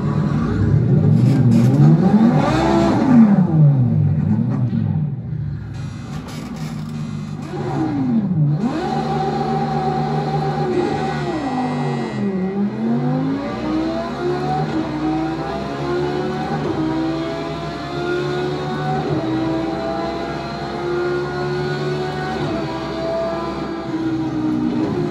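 An Audi R8 LMS race car in Project CARS 2 at the Nürburgring GP circuit, its engine revving hard through repeated upshifts and downshifts, loud and close, rising and falling pitch sweeps with no talking.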